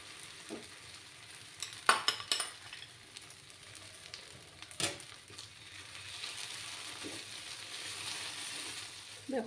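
Onions sizzle and fry steadily in a pan while making a Bengali bean-paste dish, a continuous close hiss broken by scattered clinks and scrapes of a utensil stirring.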